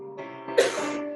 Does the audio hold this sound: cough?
yes